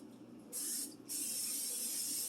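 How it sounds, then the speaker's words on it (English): Two short bursts from an aerosol butter spray can, the second longer, a close steady hiss with a brief pause between them. "I'm going to spray them with some butter spray."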